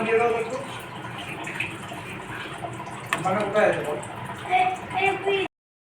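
Water is poured into a pan of fish gravy made with curd, gram flour, salt and sugar, splashing steadily at close range while someone talks over it.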